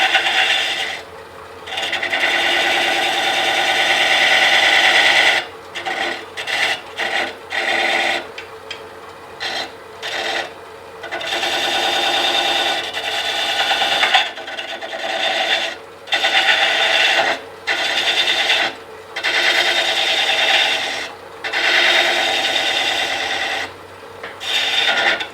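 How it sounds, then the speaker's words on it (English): Woodturning tool chamfering the bottom of a turned wooden Christmas tree on the lathe, a steady close rasping scrape broken by short pauses and repeated passes. "What we're going to do is chamfer the bottom."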